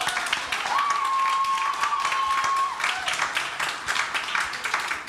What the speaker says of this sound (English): Let's give Amber a round of applause